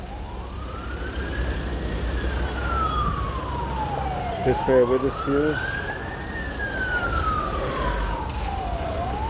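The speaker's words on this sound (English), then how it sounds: "Here comes the siren" A police car siren wails in long rising and falling sweeps as it passes close by, loud and steady, while a person talks over it.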